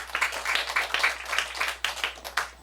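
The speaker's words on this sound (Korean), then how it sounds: "여러분 박수 환영해 주세요" Scattered clapping from a school audience welcoming a student debate speaker at a middle school youth forum, fairly faint and uneven, with individual claps standing out in a loose rhythm over a few seconds.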